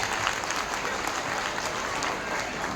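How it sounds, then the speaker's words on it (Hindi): Loud, dense audience applause at a school festival, Kala Niketan International School's Goonj 2025, honouring a guest: many hands clapping in a steady, unbroken roar that fills the space. "तो जोरदार तालियां हो जाए संजय जी के लिए।"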